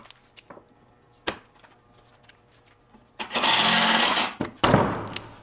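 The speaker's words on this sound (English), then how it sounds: "I'm going to start screwing this together" A power driver runs 2.5 inch pocket screws into a cedar planter box frame, with a sustained whirring burst of about a second and a second shorter burst, following scattered light knocks and handling of the wood.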